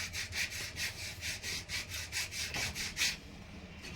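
Hand finishing the inside of a wooden thavil drum shell, a steady back-and-forth rasping scrape repeating in about a dozen quick strokes, close and moderately loud, with no talk.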